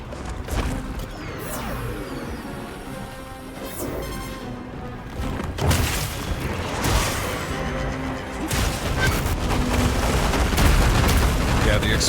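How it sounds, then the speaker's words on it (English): Explosive flail weapon blasts from combat in Monster Hunter Wilds, several loud booming impacts over a dense clash of game noise, with voices talking at times. "the explosive flail kind of gives the hint"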